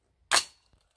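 A single sharp report from a gas-operated rifle firing 62-grain 855 rounds, loud and close, with a quick decaying tail and a faint click afterward.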